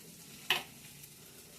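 Small potatoes fry in a pan with a low, even sizzle. One sharp spatula scrape cuts through midway and another comes at the very end.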